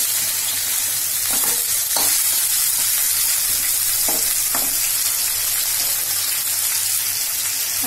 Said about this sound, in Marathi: छान तेलामध्ये फ्राय करून घ्यायची आधी.